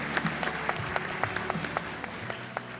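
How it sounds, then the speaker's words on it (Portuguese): Scattered applause from a modest audience at a closing panel of a conference, individual claps audible in an uneven rhythm, fairly soft and roomy. "Uma salva de palmas para essa turma aqui de experts"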